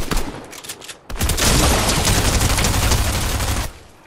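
Loud sustained automatic gunfire in Fortnite, opening with a few scattered shots before a dense, continuous burst of rapid fire that roars for over two seconds and then cuts off.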